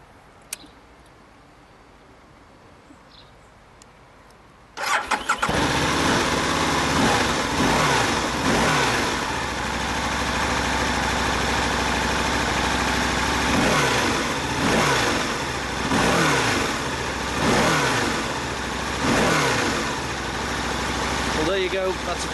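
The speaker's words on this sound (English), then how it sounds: "let's have a listen to that V-twin 1000cc motor" An Aprilia ETV1000 Caponord's 1000cc V-twin fires up after a quiet pause, then idles loudly and close with a smooth throb, rising in several revving blips over about seventeen seconds.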